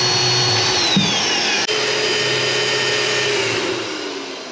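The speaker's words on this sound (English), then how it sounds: "We're gonna cut off the ends, and we're gonna drill and tap the axle." A power drill whines steadily and loudly at close range as it drills into a metal go-kart axle, its motor pitch shifting slightly as it bites, then easing off near the end.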